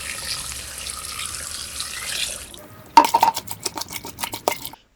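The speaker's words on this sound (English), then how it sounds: "Add enough water to fully immerse the green waste." Water pours steadily into a bucket of fruit and vegetable scraps as a continuous rushing splash, then stops and gives way to a quick run of sharp clinks and knocks close by.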